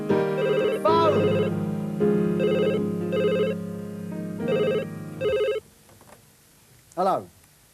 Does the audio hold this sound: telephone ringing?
yes